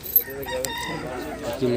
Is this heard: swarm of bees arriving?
no